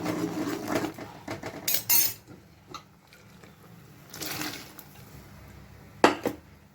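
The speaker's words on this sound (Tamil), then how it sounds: "மிளகாத்தூள் போட்டு தட்டைப்பயிரையும் உள்ளே போட்டு ஒரு கல கலக்கிடலாம்" A metal utensil scrapes and clinks against a pot while stirring chilli powder and cowpeas, in a few irregular bursts, separated by quiet moments of faint sizzling.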